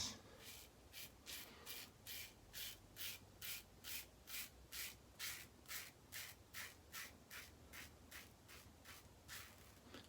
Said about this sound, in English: Just listen to that blade do its thing, do its cutting.